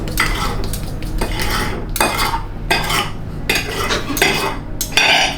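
Metal fork scraping and tapping on a plate while pre-cutting food, repeated rhythmic strokes about every second, close and fairly loud with no talk.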